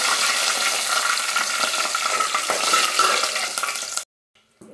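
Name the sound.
curry leaves and green chillies frying in oil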